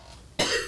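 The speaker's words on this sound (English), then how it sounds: "I'm going to cough" A single sharp cough bursts out after a quiet moment, close and loud, then trails off into a short breathy tail.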